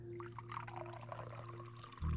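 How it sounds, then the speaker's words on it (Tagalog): Water pouring from a water dispenser into a container, a soft continuous trickle over a steady low hum, ending with a sudden louder thump. "kumukuha ng tubig sa dispenser"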